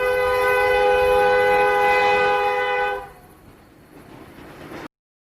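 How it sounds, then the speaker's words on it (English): A train sounds a loud, sustained multi-tone horn blast lasting about three seconds, followed by a quieter rumble of the train running on the rails until the sound cuts off. "Train."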